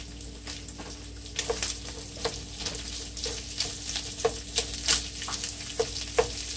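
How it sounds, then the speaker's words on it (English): Onions and jalapenos fry in a pan over medium heat, a steady sizzle with repeated clicks and scrapes as they are stirred, close and fairly loud, with no talking. "Now I'm gonna add my onions and my jalapenos."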